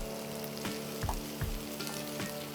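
Chicken pieces are added to onions frying in a pan, a soft steady sizzle with a few louder thumps and crackles as they land, close but fairly quiet with no talk.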